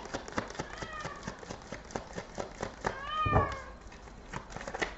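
A cat meows repeatedly near the microphone, several drawn-out rising and falling cries over a background of tapping and rustling, with one louder thump partway through.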